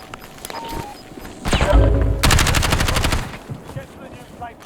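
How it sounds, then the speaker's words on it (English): Rapid automatic gunfire in the video game Warzone, a loud close burst with a dense rattling run of shots and scattered single cracks before and after. "Somebody just shot me from a different angle accidentally."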